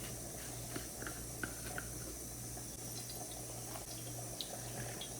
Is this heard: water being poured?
yes